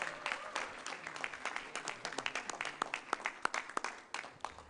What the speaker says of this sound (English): please welcome me in a round of applause in appreciating our MC for today, Terence Creative